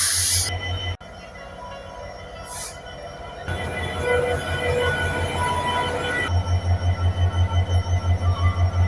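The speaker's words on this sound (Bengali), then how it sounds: "রাজবাড়ি জংশন থেকে খুলনার উদ্দেশ্যে ট্রেনটা ছেড়ে চলে যাচ্ছে" A passenger train pulls out of Rajbari Junction bound for Khulna. A steady low rumble swells into loud, rhythmic wheel clatter on the rails as the cars roll past close by.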